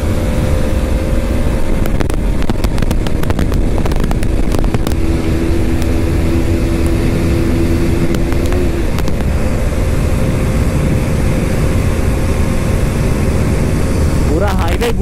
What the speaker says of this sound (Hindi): ओहो लिमिटर साउंड